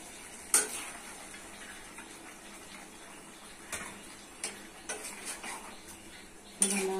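Chana dal tipped into a pot of cooked red lentils and mashed potato, then stirred, producing faint sizzling under sparse close spoon clinks and scrapes against the pot, with no talking.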